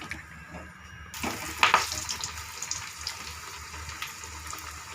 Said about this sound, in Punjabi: ਮੀਡੀਅਮ ਆਂਚ ਤੇ ਆਪਾਂ ਕਚੋਰੀਆਂ ਨੂੰ ਤਲਾਂਗੇ